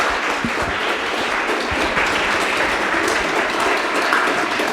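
An indoor crowd at a mayoral campaign website launch event claps steadily, a dense, fairly loud wash of applause with no pause through the short stretch.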